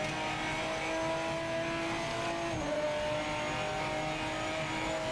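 A race car engine in Project Motor Racing 2.0 drones at steady, loud revs throughout, holding a constant pitch with only a brief dip midway, with no talk.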